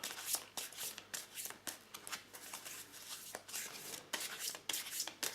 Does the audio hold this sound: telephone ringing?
no